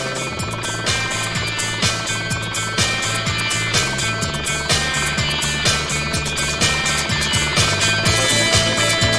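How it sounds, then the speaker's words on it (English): Police helicopters hover overhead during a car chase, giving a steady rotor drone with rhythmic blade thumping that stays loud and constant throughout, with no speech. "With choppers hovering overhead, the suspects have no chance of escape"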